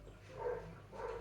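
A dog gives two short barks, the second a beat after the first, moderately loud against a quiet room-tone background with no one talking.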